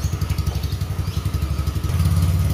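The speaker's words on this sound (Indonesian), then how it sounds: "ini juga suara motornya berubah ya? Lebih kayak motor gede gitu ya?" Motorcycle engine with an aftermarket modified exhaust idling and revving close by, a steady low throbbing pulse that deepens and swells louder near the end, giving a big-bike rumble.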